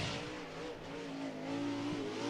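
A late model race car runs a qualifying lap at Cottage Grove Speedway, its engine a steady, droning roar with sustained tonal harmonics that shift slightly in pitch, heard from a moderate distance without talk.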